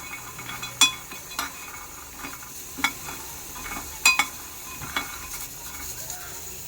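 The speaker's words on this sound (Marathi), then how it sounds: "थोडेसे असे क्रिस्पी असे करून घेते आणि मखाना जे आहेत ते आपण उपवासालाही खाऊ शकतो" Makhana (fox nuts) being roasted in a pan until crispy, with a faint steady rustle and sizzle broken by occasional sharp clinks and scrapes of a spoon stirring against the pan, close and quiet.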